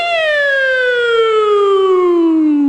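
A police car siren sounds loud and close, a single continuous falling wail that slides steadily downward in pitch, with nothing else around it.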